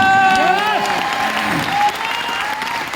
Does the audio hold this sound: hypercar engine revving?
no